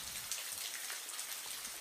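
Heavy rain falls on a night street in a steady, dense hiss of drops with no pauses or voices.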